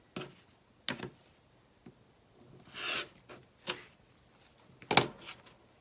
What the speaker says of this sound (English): trim the seam allowance to 1/4 inch